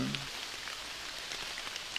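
Light drizzle falling at a jungle campsite in Kalimantan, a steady soft hiss of rain with a few close drops tapping, continuous and even throughout.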